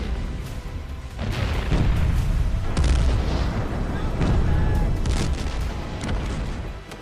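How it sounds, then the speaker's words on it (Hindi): Indian Army missile strikes during a firepower demonstration at Jaisalmer produce a series of heavy booms and rumbling blasts, several sharp impacts rising over a continuous roaring background. "कुछ ही पलों में हवा को चीरती हुई मिसाइलें अपने निशाने की ओर बढ़ी और फिर सीधा वार, सटीक प्रहार"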